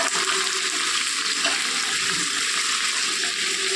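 Potato pieces sizzle steadily in a pan of hot oil for an aloo carrot fry, a dense, even crackling hiss close up with no talk.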